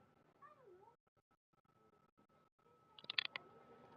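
A cat meows indoors, giving a couple of faint, drawn-out calls early on, followed by quiet clicks and a louder burst of clatter near the end.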